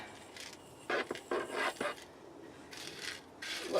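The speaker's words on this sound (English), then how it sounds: "Go ahead and put some grit around the edges just to make it look" Small grit is spread by hand around the edges of a plant pot, making short, close gritty rasps and scrapes in a few uneven bursts.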